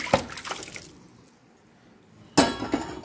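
Pressure-cooked goat intestine curry splashing into a pan, with wet pouring and clinks of metal cookware in two close bursts and a quieter gap between them.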